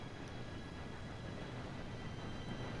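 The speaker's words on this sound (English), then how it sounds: "Oh, yes, here comes the train." A train approaches in Red Dead Redemption, a faint, distant, continuous rumble that holds steady throughout with no talking.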